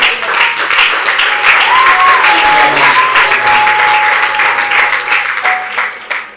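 A church congregation breaks into loud, sustained applause to acclaim the Lord during a charismatic service, dense clapping filling the room with a faint tone ringing underneath.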